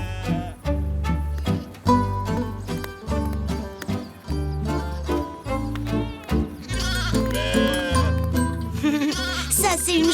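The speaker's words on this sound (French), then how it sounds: "Ça, c'est une gentille brebis" A cartoon ewe from a shepherd's flock bleats in repeated wavering calls, one after another, close and prominent over a pulsing musical backing.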